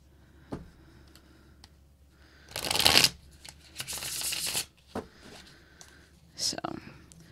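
A Mermaid Tarot card deck is shuffled in a few quick bursts of riffling and flicking over a quiet room, with short pauses between.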